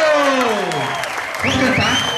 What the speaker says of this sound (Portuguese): Palmas para Jesus que está vivo.